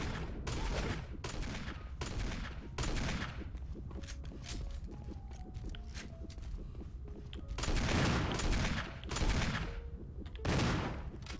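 Gunfire in Resident Evil 1, aimed at flammable tanks: repeated loud sharp bursts spread across the clip, with heavier blasts toward the end over a dense game soundscape.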